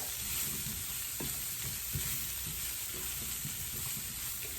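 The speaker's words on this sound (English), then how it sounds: "You want to stir this around, make sure it gets coated with the butter." Food sizzles steadily in butter in a pan on a home hibachi cook, with occasional soft scrapes and knocks from stirring over the continuous frying hiss.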